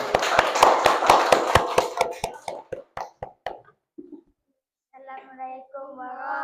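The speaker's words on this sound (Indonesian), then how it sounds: "kita tepuk tangan untuk kelompok 3." A classroom group claps hands for the third discussion group, a dense burst of clapping that thins into scattered separate claps and stops after about three and a half seconds, followed by a short pause and then speech.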